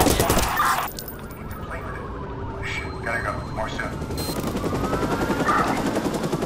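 Gunfire bursts in Watch Dogs, the open-world game, crackle through a busy mix of game noise and engine rumble, with someone talking excitedly over much of it.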